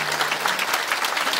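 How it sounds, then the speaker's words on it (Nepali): A church congregation breaks into dense, steady applause during a worship service, many hands clapping together loudly and continuously with no voices standing out. "ताली पुगेन जस्तो लागेको छ"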